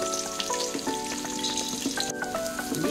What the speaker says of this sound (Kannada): ಫ್ರೈ ಮಾಡ್ಕೊಳ್ಳಿ, ಗೋಲ್ಡನ್ ಫ್ರೈ ಬರಲಿ.